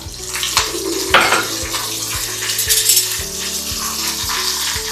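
Dried red chili pieces, a garlic clove and curry leaves fry in oil for a Telangana-style tomato pickle, with a busy, close sizzle broken by repeated utensil clinks and knocks against the pan.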